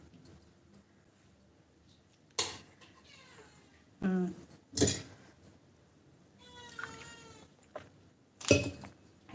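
Several cat meows come in short bursts separated by quiet pauses, some drawn out and wavering, heard fairly close.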